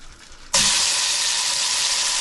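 Oil in a pot bursts into a loud sudden sizzle as it is tested before frying chicken thighs, a sharp onset followed by a steady bright frying hiss close by.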